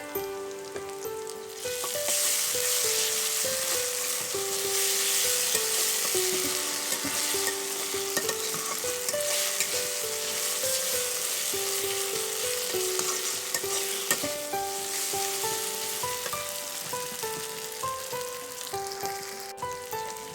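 Ginger paste frying in a pan with fried onions, a steady close sizzle with stirring scrapes over soft background music, no talk.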